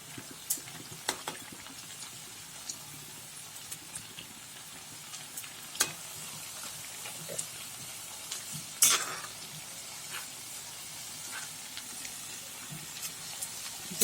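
Homemade potato smileys frying in oil give a steady, close sizzle with scattered sharp pops and faint clinks throughout; nobody speaks.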